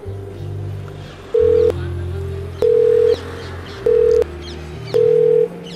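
Telephone dialing a number that is out of service: a low dial tone hums under a rhythmic pattern of steady beeping tones, four longer tones spaced about a second apart, fairly loud and close.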